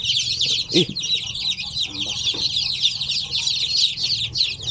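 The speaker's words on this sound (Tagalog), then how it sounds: "ito, yung mga bagong hatch natin ng mga sisiw" Newly hatched purebred Basilan chicks peeping constantly in a dense, high chorus, close and loud, with a few low voices and bumps underneath.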